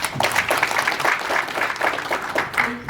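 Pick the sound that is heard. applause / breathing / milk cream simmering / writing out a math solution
applause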